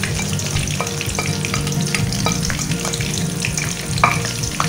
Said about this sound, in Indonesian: kita tumiskan bawang merah dan juga bawang putih